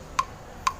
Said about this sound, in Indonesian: ini bunyi metronomnya seperti ini